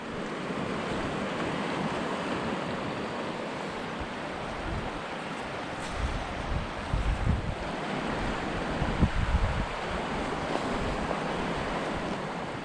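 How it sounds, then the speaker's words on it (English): Swollen Piedra River in San Juan National Forest rushing with snow melt, a continuous loud broadband roar of flowing water with some wind buffeting on the microphone, no voices. "That's a pretty swollen river."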